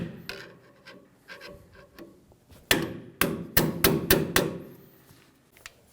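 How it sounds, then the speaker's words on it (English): A hammer, with a pry bar, strikes the safety washer on the inner tie rod of a 2005-2015 Toyota Tacoma. The work starts with some light scraping and handling, then a close, loud series of about six sharp metallic blows in quick succession. "Using a pry bar and a hammer, we're going to hit the safety washer."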